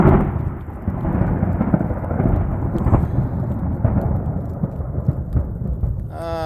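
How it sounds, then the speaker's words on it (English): Thunder in a nighttime storm on a Pacific Northwest backcountry trail, a loud continuous low rumble rolling on for several seconds with steady rain noise, a voice starting at the very end. "That's going to be a good thunder, I bet."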